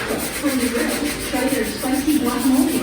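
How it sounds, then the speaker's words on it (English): Rhythmic scratchy rubbing of sandpaper on wood trim in a house, repeated back-and-forth strokes close to the listener. "So now we're just finishing up sanding, getting cleaned up in here."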